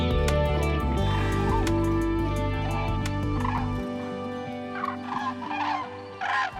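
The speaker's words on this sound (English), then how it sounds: "Cranes also communicate with each other during flight." Cranes call in flight with loud, resonant trumpeting cries that come in repeated bursts over a steady tonal background.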